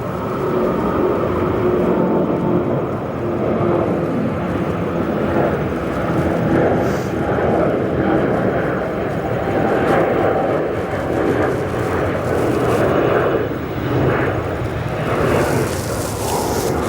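TAP Air Portugal jet climbing out from the north side at O'Hare under overcast skies, a loud, steady broadband engine roar that swells and holds throughout, nearby and continuous.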